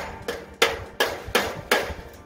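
A hammer taps on a lightweight mobile chicken tractor under construction, five evenly spaced, sharp, close strikes with no talking.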